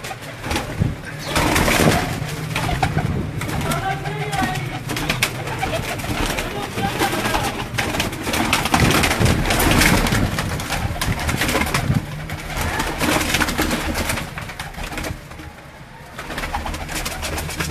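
Pigeons belonging to a pigeon keeper of Gujranwala, pearl-marked and crested birds, coo steadily at close range against a busy background, with someone talking over them throughout.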